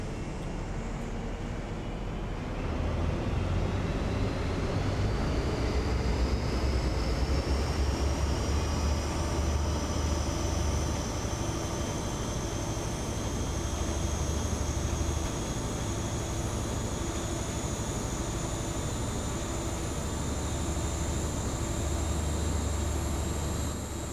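An HST Class 43 diesel power car in Train Simulator on the Western Mainlines route near Camborne roars steadily, its engine note climbing in pitch as it accelerates, loud and continuous without talk.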